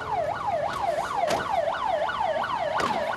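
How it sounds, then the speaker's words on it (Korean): A Korean 119 rescue vehicle siren wails in a steady rising-and-falling cycle, loud and close, with a few sharp clicks over it and no voices. "사이렌 소리를 울리며 긴급히 출동하는 119 구조대."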